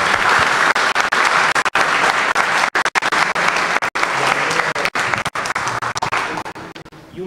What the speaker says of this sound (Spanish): les pido un aplauso como para cerrar este momento.